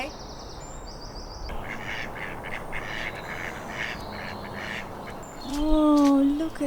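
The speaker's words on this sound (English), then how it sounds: "there was a duck fight right on top of our roof" Ducks quacking and squabbling on the roof of a narrowboat, muffled harsh calls through the hull with a louder burst of quacks near the end.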